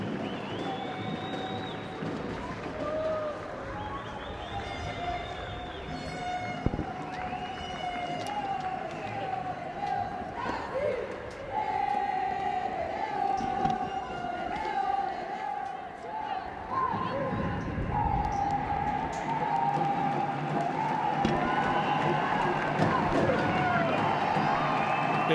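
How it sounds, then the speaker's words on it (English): Rugby supporters applauding the Brazil team after a tournament match, a broad crowd of clapping and cheering rolling on under a commentator's continuous voice, with a whistle-like tone drifting through. "taking the applause of their supporters"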